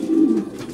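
A short, close coo from racing pigeons in a loft, one rolling call that rises and fades over a quiet background, with no talking.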